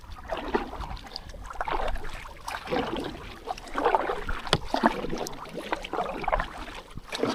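A kayak is paddled across Hinze Dam, with rhythmic splashing strokes and dripping water close by, under light wind rumble on the microphone.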